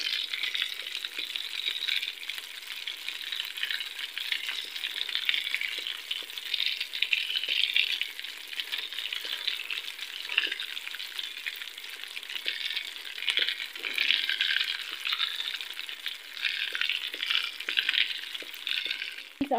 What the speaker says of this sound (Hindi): पहले एक साइड से अच्छे से हो जाए, उसके बाद हम दूसरी साइड इसको फ्राई करेंगे।